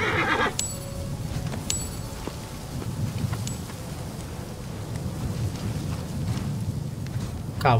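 A horse neighs in the Assassin's Creed Origins video game, a loud whinny at the start over a rain and thunder ambience with distant hoof clops, and no talking over it.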